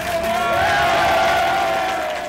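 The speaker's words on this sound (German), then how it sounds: "Jubel über die ersten Kollisionen" A crowd at CERN cheers and whoops over the first LHC particle collisions, loud and sustained, with raised voices blending into one continuous roar.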